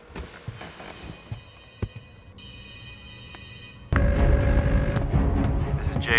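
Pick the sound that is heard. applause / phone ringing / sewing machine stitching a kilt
phone ringing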